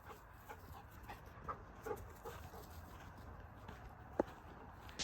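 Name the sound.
dog panting and walking off leash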